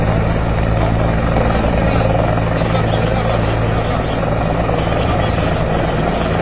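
Military helicopter lifting off, a loud, steady, close rotor and turbine roar with a constant low throb that fills the whole stretch. Faint voices may sit underneath.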